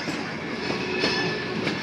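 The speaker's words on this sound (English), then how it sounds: "Please remain seated until the train completely stops." A Detroit Lima steam locomotive train arriving at the Firestone station at Greenfield Village: a steady loud rolling rumble with clattering wheels and faint thin squeals, close by and continuous, without voices.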